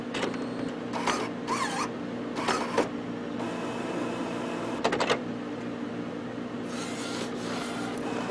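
An Epson Artisan printer initializes with whirring motor runs and short mechanical buzzes and clicks, broken by pauses over a low steady hum, close by.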